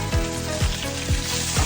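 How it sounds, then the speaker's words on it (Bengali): Three pieces of fish sizzle and crackle in hot oil in a pan, a constant close frying hiss punctuated by a few soft, regular thumps as the pieces are moved or stirred. "ভাজা করছি।"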